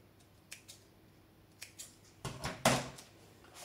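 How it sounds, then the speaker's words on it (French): Scissors snipping a small piece of fusible interfacing for a sewing project, a few faint, sharp clicks and then one louder closing snip near the end, quiet and close. "Je découpe un petit morceau."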